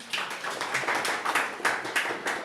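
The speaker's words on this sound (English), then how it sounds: "Can we clap for her?" A small training-room audience claps for a participant, a short burst of scattered, uneven hand claps at close range with no voices over it.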